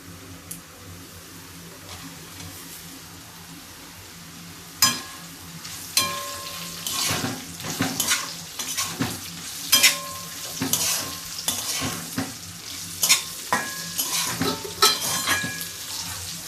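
Cashews frying with browned potato slices in a pan for a Konkan-style dish: a steady hiss of oil, then from about five seconds on, repeated stirring scrapes and clattering sizzle bursts, with no voices.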